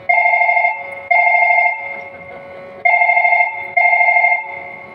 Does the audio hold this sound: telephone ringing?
yes